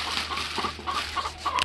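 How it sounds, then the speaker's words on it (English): Chickens cluck nearby in a yard, a string of short repeated clucks in an uneven rhythm over steady background noise. "That's the naughty chicken there."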